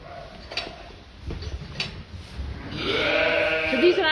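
A blackface ewe and her lambs, born a couple of days earlier, bleat on a farm: a few faint clicks and rustles at first, then a loud, close, wavering bleat that fills the last second and a half.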